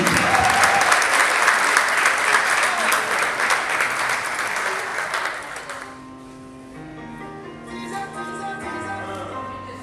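Theatre audience gives loud, sustained applause for about six seconds, then it drops away as a melodic music passage takes over, with a few claps lingering underneath.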